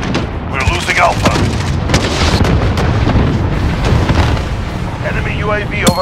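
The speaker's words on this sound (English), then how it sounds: "Enemy cruise missile incoming." Booming explosions from a cruise missile strike in Call of Duty: Modern Warfare, loud heavy blasts and crackling bursts over a busy battlefield, with voice callouts over the top.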